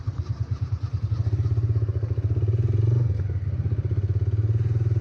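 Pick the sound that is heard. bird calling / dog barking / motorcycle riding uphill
motorcycle riding uphill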